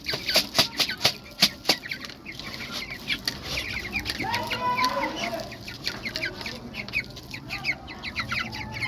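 A flock of chickens raised on a balcony cluck and chatter nearby, with sharp repeated clucks early on, some wing flapping, and a busy mix of overlapping bird calls throughout.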